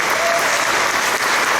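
A church congregation bursts into loud, dense applause during a sermon, a continuous wash of clapping at steady volume.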